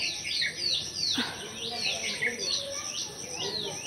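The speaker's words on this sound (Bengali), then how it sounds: "শালিক পাখিগুলো মাথার উপরে যা চ্যাঁ চ্যাঁ করছে" Myna birds squawk and chatter overhead near a temple garden, harsh repeated calls overlapping continuously and fairly close.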